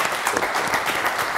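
A studio audience at an Azerbaijani talk show applauds steadily, a dense, even wash of clapping that holds for the whole moment without a break.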